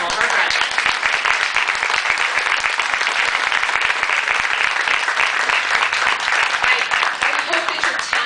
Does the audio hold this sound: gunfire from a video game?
no